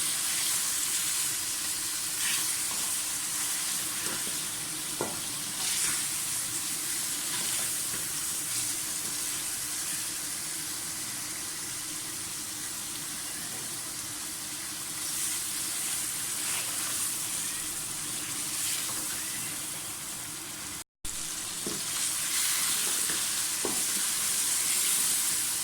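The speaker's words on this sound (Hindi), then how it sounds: "गोश्त हमारा अच्छी तरह से फ्राई हो गया।" Mutton pieces fry with spices in a pot for a Peshawari namkeen gosht curry, giving a steady, close sizzle with a few faint stirring clinks. The sizzle drops out for a moment near the end.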